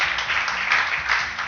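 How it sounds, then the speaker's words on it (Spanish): A church congregation applauds, a dense, steady wash of clapping that keeps going throughout at an even, fairly loud level. "Bendecirle con un fuerte aplauso a Dios si le estás creyendo."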